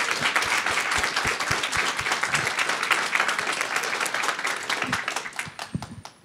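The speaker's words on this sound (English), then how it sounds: "Let's just have another round of applause for all of today's presenters." A competition audience claps for the day's presenters, a close, lively burst of many individual claps with sharp distinct hits that stays strong and then fades away at the end.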